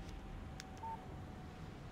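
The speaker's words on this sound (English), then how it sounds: "Text message from Barry." A phone text-message notification tone in the video game Alan Wake, a single short electronic beep heard once over a quiet, low background hum.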